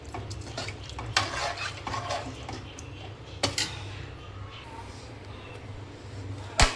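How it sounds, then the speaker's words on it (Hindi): A spoon stirs washed rice for pulao in a metal pot, giving repeated scraping clicks and clanks over a faint background sizzle, with some voices nearby. "मिक्स कर देते हैं।"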